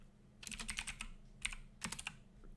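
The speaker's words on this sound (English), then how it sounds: "I'm just typing that in MathCAD so I don't forget what I said" Short runs of typing on a computer keyboard into MathCAD software: several quick clusters of crisp key taps with brief gaps, close but fairly quiet over a steady low hum, with no talking.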